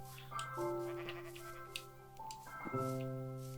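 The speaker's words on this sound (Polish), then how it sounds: "Stado owiec." Sheep in a Minecraft game bleat in two quavering calls, one early and one near the end, fairly quiet and with no talking.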